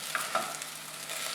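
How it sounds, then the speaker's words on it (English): Okra (bhindi) frying in a little oil in a pan, a soft continuous sizzle with a couple of small clinks as it is stirred, close and fairly quiet, no voices. "The bhindi has been frying in the pan for about"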